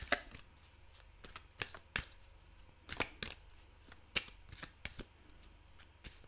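Oracle cards being shuffled by hand, a quiet run of irregular crisp slaps and riffles close by, with no talk.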